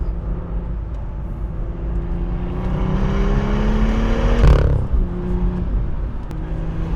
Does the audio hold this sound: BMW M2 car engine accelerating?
yes